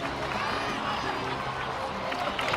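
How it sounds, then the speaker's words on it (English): Applause and cheering from a crowd in the video game Genshin Impact, a dense, steady wash of clapping and shouts held at a constant loud level throughout. "Let's give a huge round of applause to our brave young warrior"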